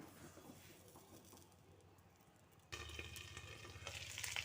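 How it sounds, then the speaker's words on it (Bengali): An egg dropped into hot oil in a pan, faint quiet background at first, then a sudden loud steady sizzle bursts in and keeps crackling to the end, with a dove cooing faintly in the background. "দেখো তেলটা গরম হয়ে গেছে, এবার আমি ডিমটা দিয়ে দেব।"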